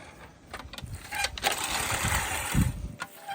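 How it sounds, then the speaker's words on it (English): Vintage Turfmaster 506A push reel mower rolling across grass, its roller squeaking in a steady run of high chirps over the whirring, clattering reel blades, close and moderately loud. "That squeaking here is just the roller right here."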